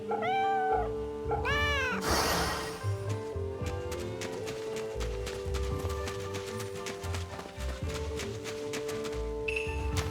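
A cat meows in the video game Fate/Samurai Remnant, several short rising-and-falling cries in the opening seconds over a steady bed of game music, clear and close, then the music carries on alone.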